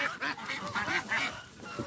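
Ducks crowd a duck farm in Isan, Thailand, giving a dense, continuous chorus of honking quacks close by, with no talk over it.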